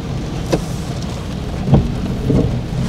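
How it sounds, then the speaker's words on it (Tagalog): Steady heavy rain over Agdao, Davao City, a constant dense hiss with three short, low rumbles of thunder spaced across the stretch, no voices. "kusog medyo inday-inday ang ulan."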